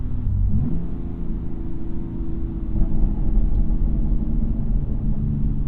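A BMW M2 Competition engine rumbles steadily up close, with low popping exhaust burbles running throughout and no talking.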